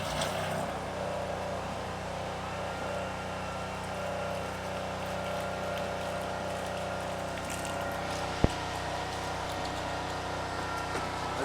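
A motorized drain auger spins steadily inside a completely blocked pipe, giving a constant motor hum with a sharp click near the end and no talking over it.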